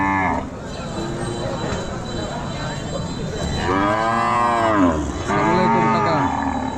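Cows low loudly and close by at a centuries-old village livestock market, two long drawn-out moos rising over a constant crowd murmur and background chatter.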